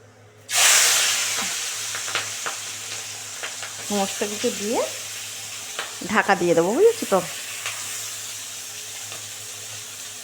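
Tengra fish with half a spoon of black cumin hits hot oil in a sudden loud burst of sizzling that settles into a steady, bright crackle, with a few brief tonal, voice-like sounds rising over the frying.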